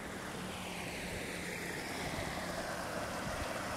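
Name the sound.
river water hitting stones, Cañaveralejo river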